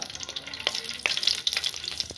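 Cumin seeds crackle in hot oil as a tempering for an egg curry, with a brief run of sharp little pops and sputters over a low sizzle.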